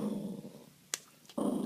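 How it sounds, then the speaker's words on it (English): A dog growls low and steadily while being held and restrained in a grappling game, with a brief sharp scuffle in the middle before the rumbling growl resumes. "I can't believe she's growling."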